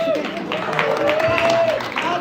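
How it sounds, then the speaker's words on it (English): A live audience at a Plant Based Treaty gathering applauds as a speaker takes the floor, steady clapping mixed with cheering voices and crowd murmur, fairly loud and close. "Huge applause for Anita, please."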